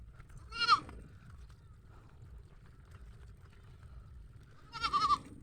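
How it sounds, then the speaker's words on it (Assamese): A goat bleats twice in a village setting, one call near the start and another near the end, with quiet background between. "ছাগলীজনী পে কৰি আছে।"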